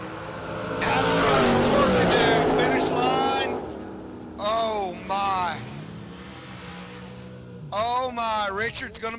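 A 1971 Chevrolet Camaro at an outlaw drag race: loud engine roars and revs come in several separate bursts, with a race announcer talking over them throughout.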